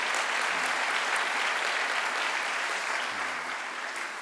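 Dense applause from a chapel service congregation fills the room loudly and evenly, holding steady throughout with only a slight fade toward the end.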